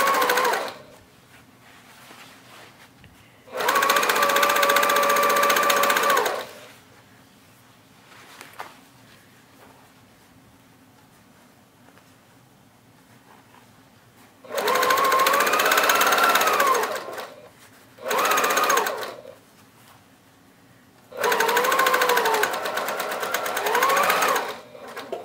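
A sewing machine stitches the side seam of a tote bag in four separate runs, each a few seconds long with a fast, steady whir. Quiet pauses fall between the runs.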